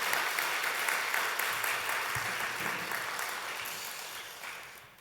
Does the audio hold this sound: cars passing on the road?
no